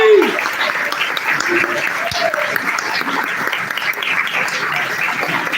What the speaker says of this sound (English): give her thunderous applause all the way up to the microphone